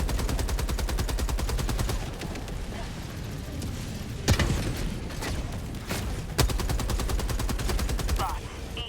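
Rapid video game gunfire from enemy rocket soldiers as they attack a bot stronghold, with steady automatic bursts, a couple of heavier booms, and a voice speaking over the shooting.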